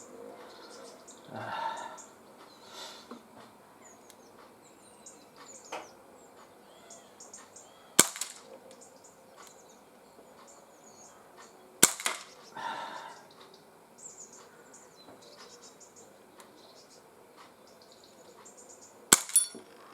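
Sharp cracks from an Umarex CP88 air pistol ring out as three isolated shots spread several seconds apart, crisp and fairly loud over a quiet outdoor background with faint birds and insects.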